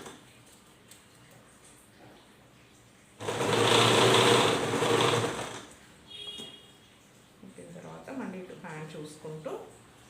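A sewing machine stitches a frock bodice in one loud, steady burst of about two seconds, close up. It is followed by quieter handling and someone talking.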